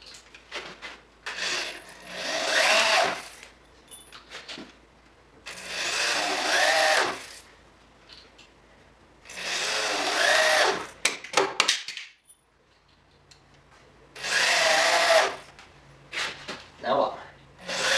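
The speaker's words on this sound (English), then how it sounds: "let's go ahead and screw these in." A power driver sinks screws into a DIY workbench in four loud whirring bursts of a few seconds each, separated by quiet pauses, close up with bits of workshop handling noise.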